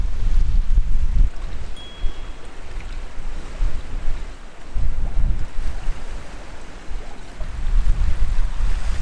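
Strong gusts of cold wind in Iceland roar and buffet the microphone in surges, loud and rumbling, with quieter lulls in between.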